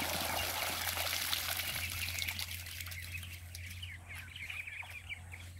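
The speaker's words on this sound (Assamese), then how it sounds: "ইয়াত মোটামুটি 150টামান পোৱালি আছে।" Around 150 ducklings on a duck farm in Assam cheep and peep in a busy, overlapping chorus at moderate distance, with a low steady hum and faint trickling water underneath.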